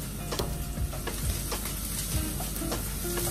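Ginger and garlic sautéing in a pan for chicken Bicol express, a steady close sizzle punctuated by several sharp scrapes and taps of a utensil as it is stirred, with no voices.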